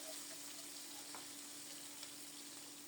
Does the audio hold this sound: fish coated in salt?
yes